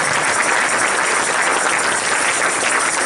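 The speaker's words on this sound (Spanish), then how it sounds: "Ponga sus manos juntas nuevamente y déle palmas al Señor" A church congregation claps together in dense, sustained applause, a steady wash of hands filling the room with no pause for the full stretch.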